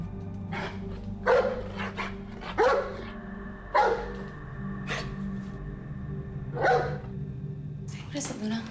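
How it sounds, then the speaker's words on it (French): Luna, a dog indoors, lets out a series of sharp barks spaced a second or so apart, standing out over a steady background hum and murmuring voices. "Luna était juste à côté de moi quand elle s'est soudainement mise à aboyer."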